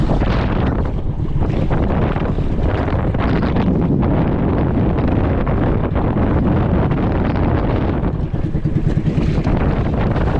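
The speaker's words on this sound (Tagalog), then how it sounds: "Ito, lakas ng alon, no?" Boat ride over rough, strong sea waves, with continuous loud rushing water and heavy wind buffeting the microphone throughout, the hull slapping and surging without pause.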